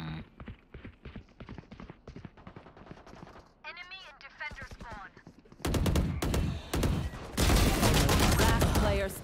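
Rapid gunfire in a Valorant Gun Game match, bursts of shots getting loud and dense toward the end after stretches of talk.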